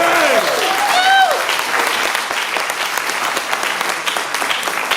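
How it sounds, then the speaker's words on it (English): A crowd applauds loudly at a Kwanzaa celebration at Malcolm X College, sustained dense clapping with cheers and a few whoops rising over it early on, then steady clapping to the end. "give yourself a strong round of applause"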